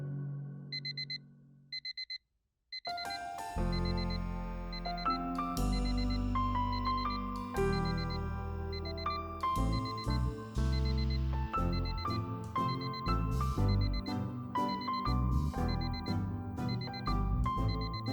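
A ringing alarm clock beeps in short repeated bursts, and music with a steady beat comes in after a few seconds and plays loudly beneath the continuing beeps.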